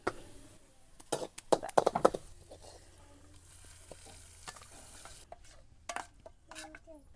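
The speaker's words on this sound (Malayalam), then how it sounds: "മുളക് പൊടി ഇട്ട് കൊടുക്കുന്നുണ്ട്." Chili powder is stirred into frying oil in a pan, bringing close scraping and clattering strokes in a cluster early on, then a low sizzle with a few more stirring knocks and no talk.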